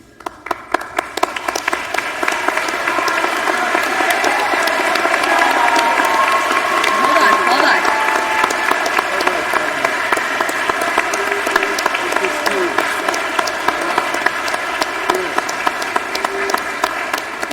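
Loud, sustained standing ovation at a high school graduation ceremony, a large crowd clapping densely and continuously with some cheering mixed in, filling the hall close and full for the whole stretch.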